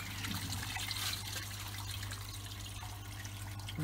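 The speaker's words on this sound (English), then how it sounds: "see the water coming out and discharge there, out of the waste." Water trickles and splashes steadily from the waste outlet of a koi pond filter during a flush cycle, a continuous close-up gurgling flow with a low mechanical hum underneath.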